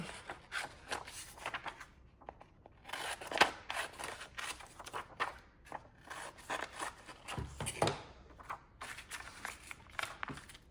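Scissors snip through paper in a quick, irregular run of crisp cuts, close and moderately quiet, with short pauses between bursts of cutting for a craft project.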